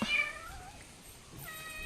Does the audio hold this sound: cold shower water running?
no